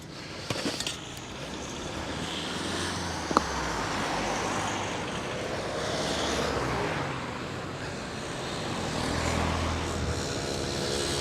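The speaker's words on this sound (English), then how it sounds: "Electric bus. You can hear them coming." An electric bus hums past on a busy street in Amsterdam, a broad steady whoosh of road noise swelling and fading with a faint electric whine, no talking.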